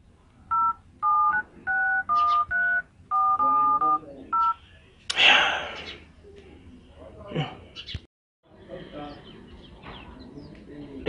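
Telephone keypad dialing tones beep in a quick series of about ten short, evenly spaced pairs while a call is placed to a rich man, followed by a brief rush of noise and a quiet voice.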